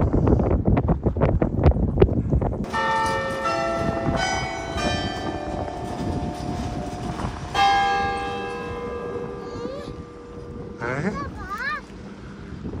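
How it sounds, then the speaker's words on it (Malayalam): Church bell ringing in Greymouth on New Zealand's South Island, a steady run of resonant tolls with long ringing overtones, heard outdoors over wind noise and faint background sounds after some brief opening noise. "ആ മണി, ഞാൻ പറഞ്ഞ മണി അടിച്ചു."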